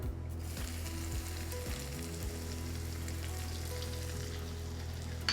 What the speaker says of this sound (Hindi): अब इसमें डाला जाएगा चॉप किया हुआ गार्लिक,